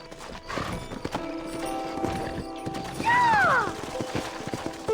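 Horses in the Red Dead Redemption video game clop along with steady hoofbeats. A close, loud whinny rises and falls partway through, against faint mechanical clicks.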